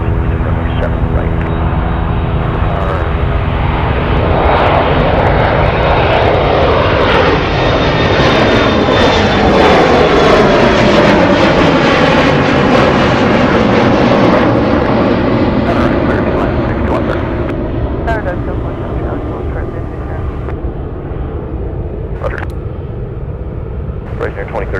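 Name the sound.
Boeing 747 Dreamlifter aircraft engines at Anchorage airport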